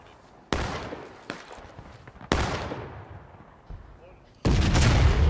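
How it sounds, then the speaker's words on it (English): Cannon fire in combat: about five heavy booms at irregular intervals, each with a long fading rumble. The last blast is sustained and loud. "Well, we're taking cannon fire."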